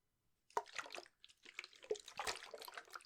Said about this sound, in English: Holy water.